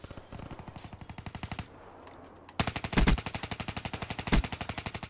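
Rapid automatic fire from an XR2 rifle with a long barrel in a competitive search-and-destroy shooter match, with steady loud bursts of evenly spaced shots, a brief pause, then a longer, heavier burst.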